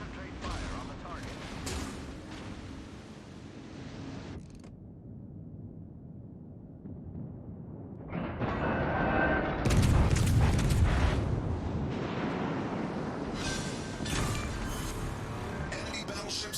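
Main guns on a French tier 3 battleship, the Courbet, fire in World of Warships Legends with deep booming salvos and rumbling blasts over a continuous game soundscape, with spoken voice lines heard alongside.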